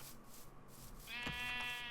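A sheep in the Minecraft video game gives one nasal, wavering bleat in the second half, clear and fairly close above a soft, steady game background.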